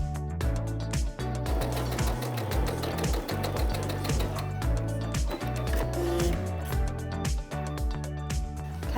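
A sewing machine stitches 5-inch patchwork squares into triangle pieces, running with a steady, close, rhythmic mechanical chatter and a few brief pauses and speed changes.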